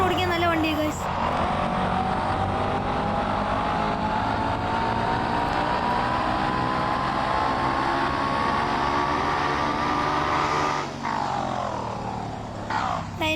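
A drone bike in a Jurassic Park video game rides through jungle with a steady, droning motor hum whose whine slowly rises in pitch. Someone talks over it continuously.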